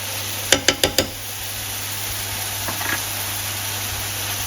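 A spoon stirs tomato paste in a frying pan: four sharp taps against the pan come in a quick row, followed by faint scraping over a steady hiss and a low hum.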